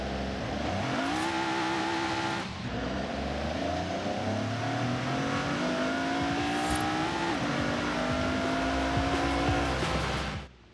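Stock Jaguar XJ220 TWR engine in Forza Horizon 5, revving steadily with rising and falling harmonic sweeps across about ten seconds, loud and continuous with a brief dip near two and a half seconds, no talking.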